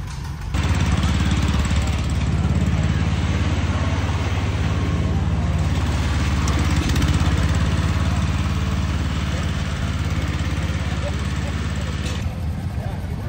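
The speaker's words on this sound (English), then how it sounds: "This is the tractor parade" Tractors roll past in a tractor parade at an agricultural museum power show, a loud, close, continuous engine rumble that holds steady for the whole stretch.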